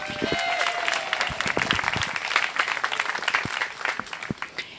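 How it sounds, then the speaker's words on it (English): An audience applauds a chief referee at a masters rowing nationals coaches and coxswains meeting, a steady wash of clapping with a few cheers, fairly near, lasting throughout. "So give her a round of applause, Chief Referee Dee McComb."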